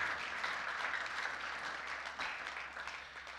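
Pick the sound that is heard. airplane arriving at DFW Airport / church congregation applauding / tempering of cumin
church congregation applauding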